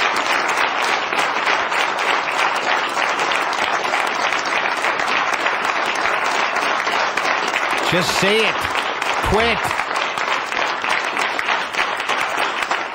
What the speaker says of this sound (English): Oh, and they clap forever for no reason.